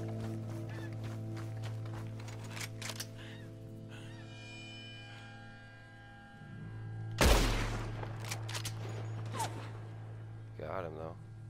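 Gunfire in Red Dead Redemption 2, with one loud sharp shot standing out over a steady low game hum and scattered fainter bursts, while a player talks over it.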